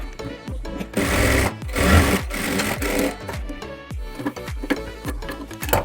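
An electric sewing machine stitches the tucks of a blouse, running in quick rhythmic bursts of rapid needle chatter separated by brief pauses, close and clear with no talking.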